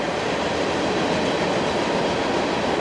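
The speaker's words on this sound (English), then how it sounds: "we got another train going by." A passing train makes a loud, steady rumble and rolling rail noise that fills the whole short stretch, with no talking over it.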